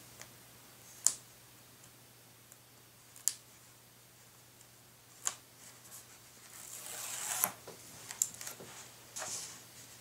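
Adhesive backing is peeled off an aircraft vortex generator for an SC11 Sport Cub: a few sharp isolated ticks, then a soft, close tearing hiss that swells through the second half and tapers near the end.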